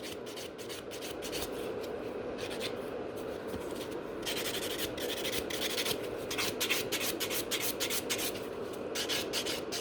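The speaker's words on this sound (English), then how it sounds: "And with the large buffer, I'm filing usually the biggest surface just to smooth it" Large buffer rubbing across a nail surface during a pink ombre manicure, a steady close scratchy sanding that runs continuously with slight surges, no talking.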